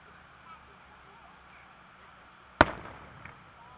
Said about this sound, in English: Wow, that's a sparkler.